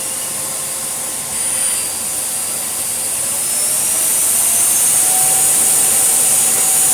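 Vacuum cleaner running at medium power with its hose attached, a steady loud whooshing roar with a high airy hiss and a whine that rises slightly partway through, continuous with no talking.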